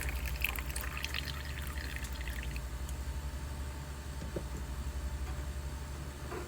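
Liquid pours steadily for a few seconds over a low engine-like hum, close and fairly faint, with no talking, while travel accessories are being made.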